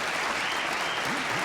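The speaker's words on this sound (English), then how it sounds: "No, Shelley, you don't have to lead the applause on the jokes" Studio audience applause during a late-night talk show monologue, a dense and steady wash of clapping throughout, with faint voices underneath.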